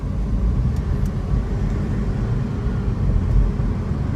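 A BMW X2 with a four-cylinder turbo engine pulls hard from 0 to 60, giving a continuous low engine drone and road roar heard from inside the cabin, steady and fairly loud with no talking.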